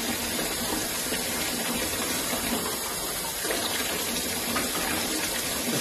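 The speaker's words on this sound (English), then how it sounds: "Now I'm just rinsing them out." Tap water runs steadily over plastic plant trays being rinsed after a scrub in soapy bleach solution, a continuous close splashing gush with no voices.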